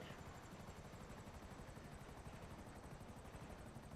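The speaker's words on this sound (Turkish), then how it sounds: "Sizin de mi helikopteriniz var?" Helicopter in the video game GTA V, a steady faint rotor whir and engine drone holding throughout, with no voices.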